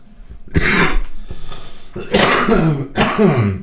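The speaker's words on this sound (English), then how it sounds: "Except for my coughing." Several harsh coughs come close to the mic, a throat-clearing burst followed by two more coughs a moment apart.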